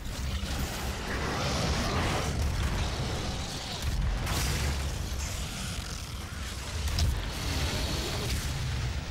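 A rocket-jump explosion in the shooter game Doom: a dense, roaring blast-and-rumble bed of game combat noise that stays loud for the whole stretch, with no one talking.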